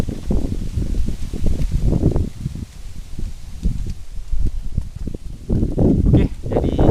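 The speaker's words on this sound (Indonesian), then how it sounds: "Anginnya kencang" Strong wind blows outdoors near a bird's nest site, buffeting loudly in rough gusts with low rumbling and rustling close by, and no clear speech.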